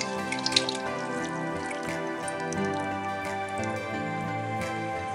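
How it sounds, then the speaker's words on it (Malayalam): Water is poured into a mixer grinder jar to rinse out ground masala for butter chicken, giving a close splashing trickle with light drips and a ringing hollow tone from the jar, with no speech. "ഈ മിക്സിയിൽ നമുക്ക് അല്പം വെള്ളം ഒഴിച്ചൊന്ന് ക്ലീൻ ചെയ്തിട്ട് വെള്ളം അതിലോട്ട് തന്നെ ഒഴിച്ചു കൊടുക്കണം."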